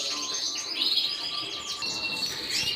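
Canaries chirping and tweeting in a breeding room, several birds calling at once in quick bright bursts, moderately close and without talk.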